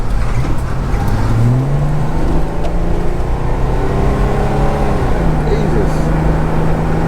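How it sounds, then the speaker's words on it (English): An old GQ Patrol 4x4 engine pulls hard under power, a loud, steady rumble whose pitch climbs and shifts as it accelerates, while a person exclaims over it. "I'm just happy my car drives again"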